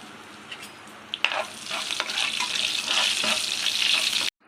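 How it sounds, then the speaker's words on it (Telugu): Dried red chillies and asafoetida frying in hot oil for a restaurant-style dal tadka, a few faint clinks giving way to a loud, steady sizzle and crackle that swells and then cuts off abruptly. "ఇలా ఎండుమిర్చి కూడా ఫ్రై చేసేసుకోవాలండి."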